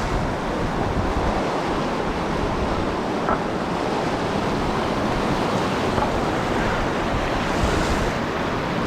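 River water rushes through rapids at Ohiopyle on a fast-moving stretch near the Cucumber side, a loud, steady, close roar of churning water that continues unbroken throughout.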